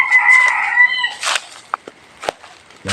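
A rooster crows once from a mango tree, moderately distant, followed by a few short scattered clicks and rustles in an otherwise quiet outdoor setting.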